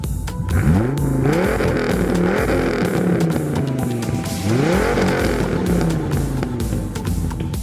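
A Lamborghini Gallardo's dry-sump V10 engine revs hard twice, rising and falling in pitch with a loud, raspy roar that fills the whole stretch.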